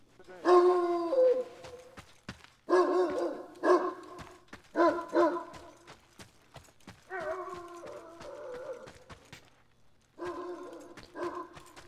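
Dog barking in the post-apocalyptic video game Mad Max, a dog that sniffs out minefields: loud repeated barks in several bursts with short gaps, fairly close, alone without talk.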